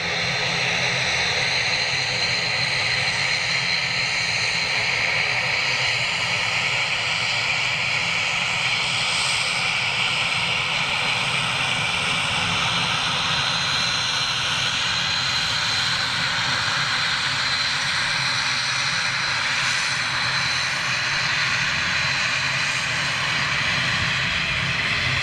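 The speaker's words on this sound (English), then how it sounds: "Here we go, Flybe's ATR." A Flybe ATR turboprop airliner flies past with a loud, continuous engine and propeller drone that holds steady and full for the whole stretch, with no talking.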